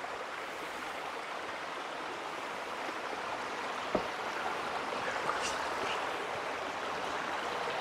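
A creek rushes steadily near a cave with a waterfall, a dense, continuous watery hiss filling the scene up close, with a faint knock partway through and no voices.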